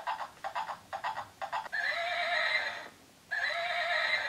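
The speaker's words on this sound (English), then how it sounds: "it makes horsey sounds if you squeeze the ear" A Mamas and Papas rocking horse toy, squeezed by the ear, plays a recorded horse sound: a quick series of close clip-clop hoof beats, then a long bright whinny, a short pause and another whinny.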